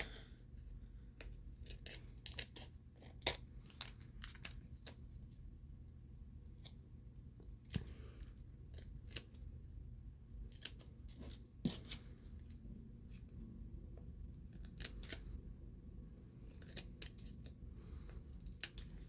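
Scissors trim excess material while making clip-on and post glitter earrings, a series of faint, sharp snips scattered irregularly over a quiet background.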